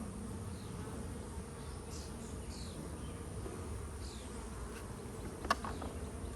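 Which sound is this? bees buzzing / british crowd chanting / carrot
bees buzzing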